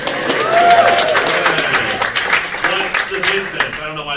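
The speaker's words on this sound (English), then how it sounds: "I don't know why they're clapping before they know what I've done." Comedy club audience clapping during stand-up crowd work, a broad wash of applause that swells early and then thins, with a voice speaking over it.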